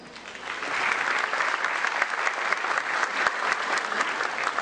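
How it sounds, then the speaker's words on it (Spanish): Sustained applause from a conference audience at an international workshop on market power regulation, a dense, even clapping that swells within the first second and holds steady throughout. "Un aplauso"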